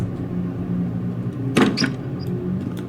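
In the horror game Escape the Backrooms, a door closes with a sudden dull thud and rattle midway through, set against a low steady rumble of ambient game noise.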